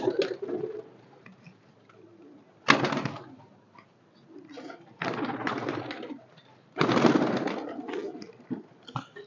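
Pigeons coo softly and close by, mixed with bursts of rustling and flapping as the birds are handled, with quieter gaps between the louder bursts.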